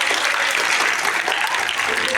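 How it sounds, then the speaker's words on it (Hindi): Loud, continuous applause rings out for the candidates at a school children's parliament formation event, a dense steady crowd of clapping throughout. "शेष एक बार सभी अभ्यर्थियों के लिए एक बार फिर से जोरदार ताली"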